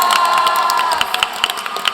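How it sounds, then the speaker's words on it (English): An audience at a panel event claps and cheers in a short, lively burst, with high shouts and whoops rising over scattered clapping that thins toward the end. "Can we give her a round of applause?"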